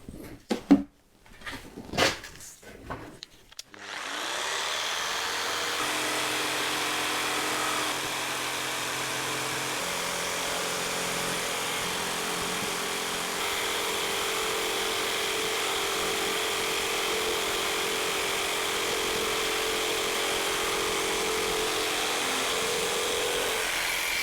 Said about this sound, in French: Donc je vais faire ma coupe circulaire là.